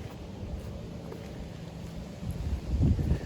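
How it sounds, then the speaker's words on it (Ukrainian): Gusty outdoor wind buffets the microphone beside a Ceres-6 or Atria-6 row-crop seed drill, a steady low rumble that swells louder near the end. "Трохи вибачаюсь за звук, тому що вітер."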